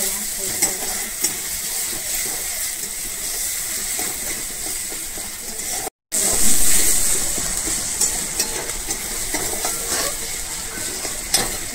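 Ginger and garlic frying in a pan for paneer bhurji, a loud continuous hissing sizzle with occasional stirring scrapes, close up, briefly cutting out midway before resuming even louder.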